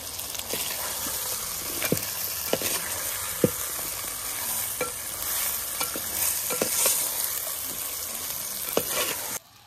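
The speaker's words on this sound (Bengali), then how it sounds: "মাংসটা প্রায় কষা হয়ে গেছে" Chicken pieces and tomatoes fry in a pan with a steady, loud sizzle while a utensil stirs them, scraping and clinking against the metal at irregular moments throughout.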